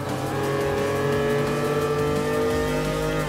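Lancia Stratos engine revving in Gran Turismo Sport, a loud sustained mid-engine rally car howl that holds a steady high pitch and climbs slightly, close and constant throughout.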